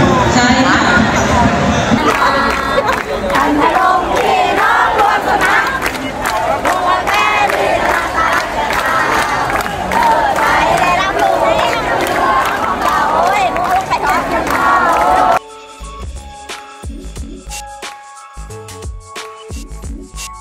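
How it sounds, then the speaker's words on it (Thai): Football supporters at a school championship final match cheering, shouting and clapping loudly as a dense crowd, with voices mixed in, before the noise cuts to a quieter scene. "กองเชียร์รอปรบมือให้กับทางด้านน้องๆนักเตะจากอบจ."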